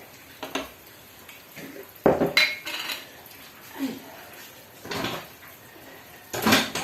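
A spoon is picked up from among cutlery in a home kitchen while meat is being seasoned, with several distinct metallic clinks and clatters spaced across the moment, close and moderately loud.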